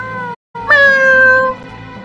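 A cat meows in a video game, a single loud, close, drawn-out tonal meow that follows a short gap of silence and plays over quiet background music.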